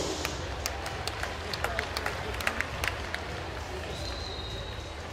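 Applause from the crowd at a swim meet after a women's 200 m butterfly final, a steady wash of scattered claps and crowd noise with sharper individual claps standing out, under a continuous background murmur.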